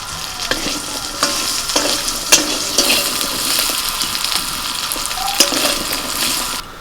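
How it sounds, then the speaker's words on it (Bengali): Coconut frying in a pan hisses continuously while a utensil scrapes and clicks against the pan at irregular intervals; the sound is close and fairly loud, with no talking. "এই জন্য একটু নারকোল ভাজা হচ্ছে"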